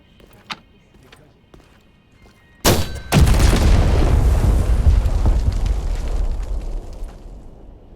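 Panzerfaust rocket launcher fired in Medal of Honor VR, a World War II VR shooter: a sudden loud blast followed by a long, heavy rumbling roar that slowly fades, after a few faint clicks and taps in quiet surroundings.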